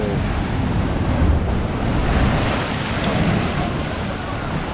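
Large storm waves crash onto the shore at Yalta in a heavy, continuous roar of surf, mixed with strong wind buffeting the microphone close by.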